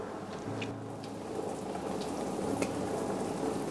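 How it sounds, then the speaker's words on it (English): A plant-based sweet red bean jelly mixture for mizu yokan boils in a pot, giving a soft, steady bubbling hiss with faint pops throughout and no talk. "When it boils, reduce the heat and cook for further 2 minutes."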